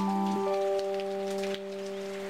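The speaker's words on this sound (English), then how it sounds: "Oh my god, it's raining." Rain in the video game Deiland falls as a soft, steady patter under sustained tonal game music, with a few brief clicks and no voices.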